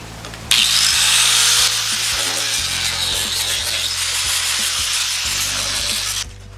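A 4.5-inch angle grinder whines loudly and continuously as it cuts the plastic housing off a Cadillac STS transmission filter, with one shift in pitch partway through before the grinder cuts off.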